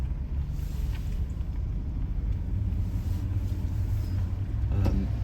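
A 2013 Jaguar XFR with a supercharged 5.0 V8 idles or cruises with a low, steady engine rumble, heard from inside the car with no talking.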